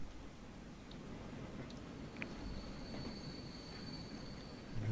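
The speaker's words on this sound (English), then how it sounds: "There's a passenger train." A passenger train runs through a Transport Fever railway scene, a steady low rumble of rolling wheels with a faint high squeal drawn out near the end and a few light clicks, moderately loud and continuous, with no talking.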